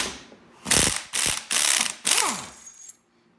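A ratchet loosens the strut spring on a Porsche 944, four loud, close bursts of rapid clicking separated by short pauses, with no talking.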